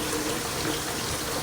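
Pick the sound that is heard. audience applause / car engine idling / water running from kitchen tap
water running from kitchen tap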